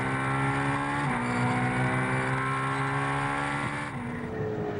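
A Ferrari GT race car at Phillip Island during an Australian GT Championship race roars at high revs, with sustained engine tones that hold, then drop and climb again through gear changes, loud and continuous.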